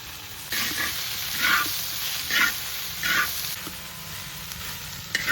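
Green chillies stirred into a pan of frying onions and spinach, sizzling steadily with several bursts of scraping and stirring at a close, moderate level.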